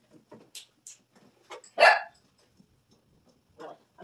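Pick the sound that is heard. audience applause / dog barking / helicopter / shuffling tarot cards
dog barking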